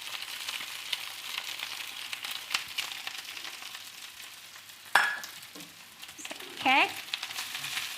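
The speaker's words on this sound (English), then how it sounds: "And now we will start putting our cooked rice." Cooked rice fries and sizzles in a pan with egg and vegetables, stirred in soft scraping bursts with a few sharp utensil clinks, under brief talk.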